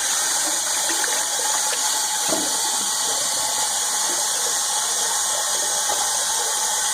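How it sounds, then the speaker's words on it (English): A toilet flushes during bowl cleaning, a loud sustained rush and gurgle of water filling the whole stretch without pause. "Okay, now time to flush."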